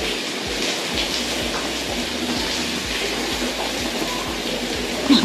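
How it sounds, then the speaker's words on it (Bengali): Steady rain falls continuously under a cloudy sky, a dense even hiss with soft low rumbles and a few brief louder patters near the end. "দেখো আকাশে মেঘ, বৃষ্টি হচ্ছে অনবরত সকাল থেকে।"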